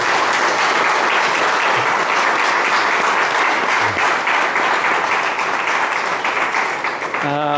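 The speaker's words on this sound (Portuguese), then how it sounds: "uma salva de palmas bem fortes para vocês" Loud, sustained applause from a crowd at a Mozambican diaspora gathering in Lisbon, dense clapping filling the whole stretch with a few faint voices mixed in and a brief tonal sound right at the end.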